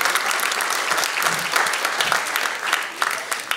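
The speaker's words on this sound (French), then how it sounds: "vous pouvez les applaudir" At a student awards gala, an audience gives bright, dense applause for scholarship presenters, steady and even clapping from a sizable crowd throughout.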